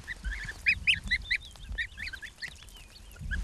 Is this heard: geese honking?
yes